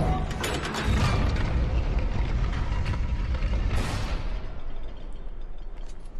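An elevator mechanism moving in the PS3 game God of War Ascension, heard as a loud, continuous grinding rumble with creaking metallic scrapes and ratcheting bursts that ease off toward the end.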